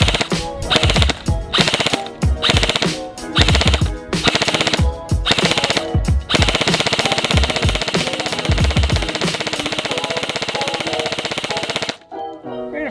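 A Cybergun Sig Sauer MCX airsoft rifle fires downrange outdoors in loud, rapid bursts of snapping shots, first in short strings with gaps, then a long continuous burst before stopping abruptly.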